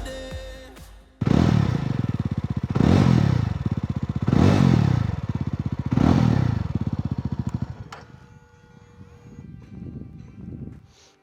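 A Jawa 350 retro motorcycle starts up, then revs loudly several times in pulsing bursts with a throbbing single-cylinder beat before settling into a quieter idle.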